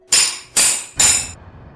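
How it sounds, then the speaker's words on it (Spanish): Three loud, evenly spaced hammer blows ring out alone, each sharp strike followed by a short decay, with silence after the last. "el más pequeño de sus hijos, Felipe, comenzó a escuchar fuertes martilleos en su habitación"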